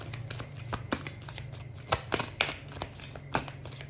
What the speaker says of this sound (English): I'm really struggling with shuffling tonight